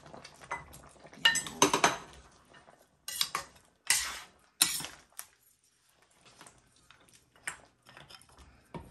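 Chopped potatoes, carrots and red chili tipped into a pot of simmering pork rib caldereta, heard as a run of loud metallic clanks and clinks of utensils against the pot, separated by quieter gaps.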